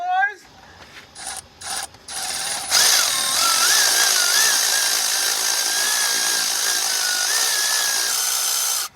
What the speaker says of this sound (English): we're gonna see if the little Milwaukee ratchet will do it